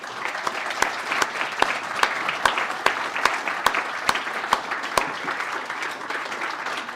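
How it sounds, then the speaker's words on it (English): An audience at a regional volunteer awards ceremony applauds an award winner, sustained full clapping with a few sharper individual claps standing out near the front. "can we have a round of applause, please, for Toby Jones?"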